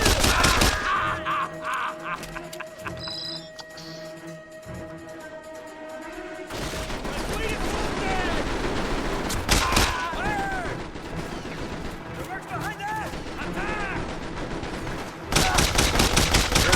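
Gunfire in the game Mercenaries 2: World in Flames, with dense bursts of automatic shots, a sharp loud volley near the start and again at the end, and a busy stretch of scattered firing and crackle in between.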